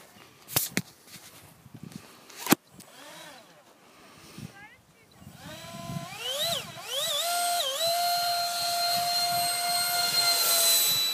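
A Skyartec F-16 radio-controlled model jet starts quietly after a few sharp knocks, then its high turbine-like whine climbs and shifts in pitch as it launches, growing loud and steady; voices are heard briefly.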